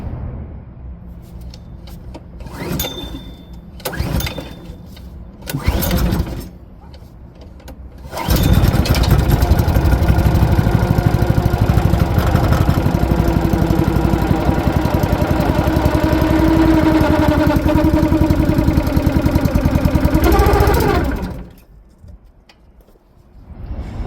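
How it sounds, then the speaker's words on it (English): Several sputtering pull-start attempts, then a Honda GX160 petrol engine with a repaired exhaust catches and runs loudly and steadily for over ten seconds before cutting off. "The engine is running and the exhaust is performing correctly"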